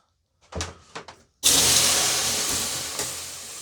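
Steam bursts into a loud, sustained hiss in a sauna, slowly fading after a few soft knocks and thumps just before it.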